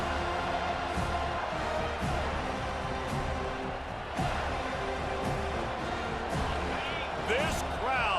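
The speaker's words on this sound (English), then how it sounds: "This crowd, full throat, splitting the eardrums" A stadium crowd in EA Sports College Football 25 sends up a steady, broad roar beneath continuous play-by-play commentary. The noise swells slightly near the end.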